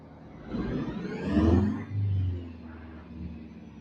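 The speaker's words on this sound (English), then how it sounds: "This truck sounds so good." A truck hauling a backhoe revs its engine close by in two rising surges, settling back to a low idle rumble between and after them.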